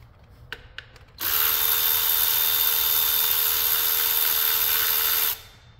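A power tool whirs steadily for about four seconds while removing an ignition coil hold-down bolt on a car engine, loud and close, preceded by a few faint clicks.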